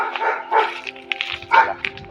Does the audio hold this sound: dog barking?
yes